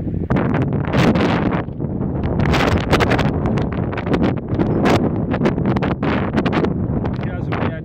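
Strong gusts of wind batter the microphone on an exposed hillside, a loud continuous roar with rustling bursts that swell and ease throughout, no voices.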